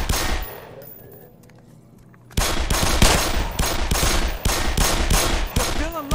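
Sustained bursts of automatic gunfire in the shooter game Black Mesa, loud, rapid rattling shots after a quieter lead-in, continuing in dense repeated volleys to the end.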